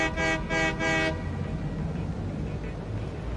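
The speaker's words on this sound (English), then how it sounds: "come on, you fat ass train" Train horn in the video game Satisfactory blares in three loud, sustained blasts, followed by a steady rumble of the train running on its own.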